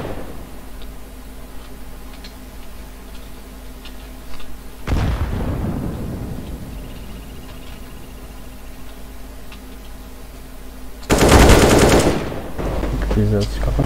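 Counter-Strike: Global Offensive gunfire on a 2v2 map: a loud close burst of rapid shots cuts in around the middle, a heavier sustained volley follows later, with game ambience and faint ticking filling the gaps.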